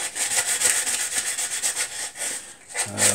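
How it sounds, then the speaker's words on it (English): Light hand sanding cleans up a wooden bowl with resin in it, a steady rhythmic rubbing rasp repeated in quick strokes, close and continuous. "Just want to be a light sand and a clean up."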